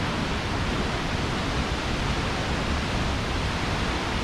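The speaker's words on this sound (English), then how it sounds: "can you hear the sound of water?" A constant, powerful roar of rushing water from Nungnung Waterfall in North Bali fills the air, a dense unbroken hiss of water crashing nearby, with no voices.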